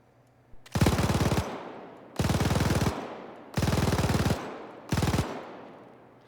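An MG3 machine gun fires in Arma 3 in four sustained, rapid bursts of under a second each, separated by short pauses, loud and close with a ringing tail after each burst.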